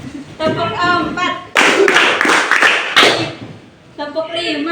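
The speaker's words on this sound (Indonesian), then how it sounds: "Tepuk 4," After a teacher speaks, a classroom full of pupils claps in unison, a loud cluster of quick, bright group claps lasting over a second before the teacher's voice returns.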